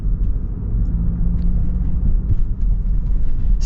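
Steady low rumble from a 2024 Land Rover Discovery with a four-cylinder engine while driving: an even, droning hum of engine and road noise heard from inside the cabin, with no talk.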